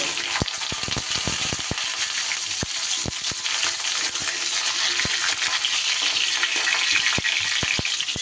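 Pointed gourd (potol) fries in oil over a high flame with dry red chillies and black cumin, giving a steady, bright sizzle with scattered sharp clicks and taps of stirring against the pan.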